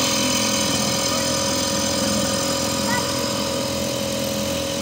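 A Mercury 3.3 outboard motor runs steadily on a Pelican Bass Raider boat, a continuous loud droning engine hum on the water with talking in the background.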